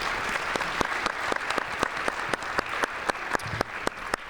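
Audience applause for a college counseling staff, steady dense clapping with sharp individual claps standing out throughout, fairly loud and sustained with no voices over it.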